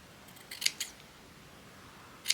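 Scissors snip away small bits of material in a crafting session, giving a few quick, crisp cuts close by, two clustered together and a final snip after a short pause, with no talking.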